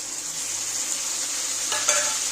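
Fried potatoes and pointed gourd being stirred in spice paste of dried chilli, cumin and ginger with salt and turmeric, a steady close sizzle with a couple of brief scraping stirs, no talking.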